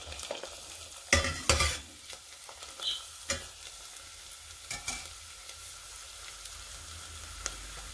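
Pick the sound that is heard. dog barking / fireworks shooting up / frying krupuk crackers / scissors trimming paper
frying krupuk crackers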